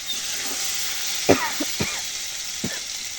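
Garam masala and cumin sizzling in hot oil in a home kitchen, a steady close frying hiss throughout with a few soft coughs and small clinks breaking over it.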